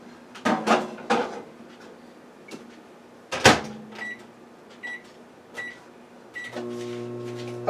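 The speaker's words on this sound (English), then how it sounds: "This is our 1/4 I need to melt in the microwave." Butter melting in a kitchen microwave oven: several clunks of the door and nearby cupboards come first, then the oven's steady electric hum starts near the end.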